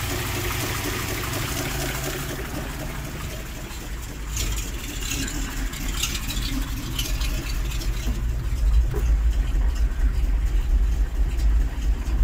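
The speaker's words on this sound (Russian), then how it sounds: "Сейчас нагреем машину," A cold GAZ-53 truck engine idles as it warms up, a steady low rumble that grows somewhat louder and rougher toward the end, with faint clanks and handling noises nearby.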